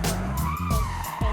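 An AWD car drifting out of a spin turn produces loud, continuous tire skidding and squealing up close, with engine roar underneath and brief breaks in the screech as the car slides.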